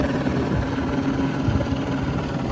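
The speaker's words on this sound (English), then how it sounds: "There is a friggin' helicopter." A helicopter roars steadily overhead, a loud continuous rotor and engine drone with a rapid beating texture and no other sounds.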